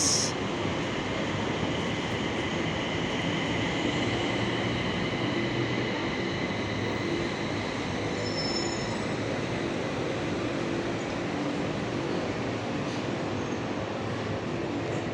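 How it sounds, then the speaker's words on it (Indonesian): A loud, continuous rumble of a light rail train arriving at a Bangkok station, with steady wheel and motor noise and a faint high squeal partway through; no talking. "Ini dia LRT-nya nih teman-teman, seperti ini."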